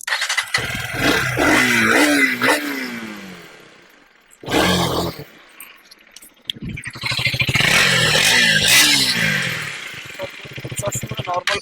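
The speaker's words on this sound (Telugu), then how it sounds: "ఒకసారి ఎగ్జాస్ట్ ఆన్ చేస్తాను చూడండి" A black KTM Duke 250 motorcycle revs its exhaust up loudly and close, falls quiet briefly, then roars through a second run of throttle blips.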